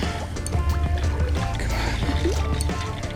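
Close, intermittent water splashing and sloshing as a carp thrashes at the surface, over a steady low background rumble.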